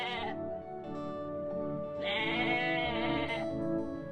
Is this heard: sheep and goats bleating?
yes